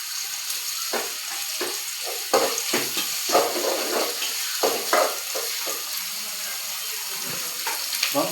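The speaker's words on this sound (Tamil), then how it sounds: "வெங்காயம் போட்டு நல்லா வதக்கிங்க" Onions sautéing in a pan for egg curry, a steady soft sizzle with irregular scraping stirs and clatters close by, with faint talk in the background.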